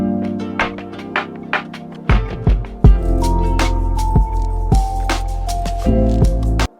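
Drum loop filtered through a radio-preset EQ, thin and boxy at first with tapping hits, then a heavy bass-driven beat with punchy kicks and melodic notes taking over partway through, loud with no voices.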